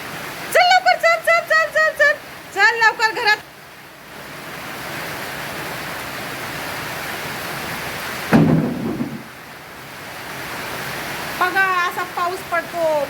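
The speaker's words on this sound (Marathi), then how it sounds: "पाऊस चालू झालेला आहे" Steady, even hiss of rain fills the middle, with bursts of sharp, repeated high calls at the start and end.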